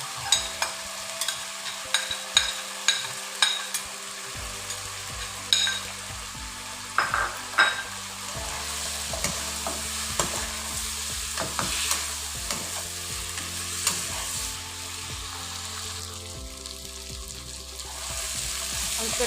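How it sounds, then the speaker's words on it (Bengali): Chicken pieces frying and being stirred in cooked spice paste with cauliflower in a pan, steady sizzling with repeated scraping stirs and clinks throughout, no talking. "মশলাটা কষানো হয়ে গেছে, এই পর্যায়ে আমি দিয়ে দিব মাংসটা।"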